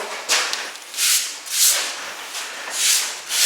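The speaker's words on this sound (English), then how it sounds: "all I use is my little spray tip and run along that bottom edge" An airless paint sprayer applying waterborne gloss enamel along the bottom edge of trim: several bursts of hissing spray, each about half a second, repeat in an uneven rhythm, close by with a soft background hiss between.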